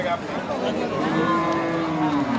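A large Sahiwal cow at a rural cattle market gives one long, loud, drawn-out moo close by, over a busy background of crowd noise.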